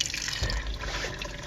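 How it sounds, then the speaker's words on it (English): Tap water runs steadily from a small lift-up faucet into the sink of a 1985 VW Vanagon Westfalia camper, a close, continuous splashing stream with no talking. "You just lift up this little faucet"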